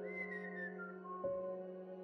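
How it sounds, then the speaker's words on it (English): A person whistles in a bedtime story, giving two clear tuneful whistles in a quiet room, the second starting about halfway through and sliding in pitch. "From the top of your head, he whistles twice."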